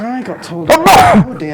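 A single sharp sneeze bursts out loudly in the middle of casual conversation, with people talking just before and after it.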